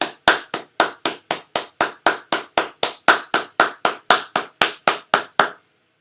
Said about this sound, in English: Juniors, please stand up in your homes and receive our applause.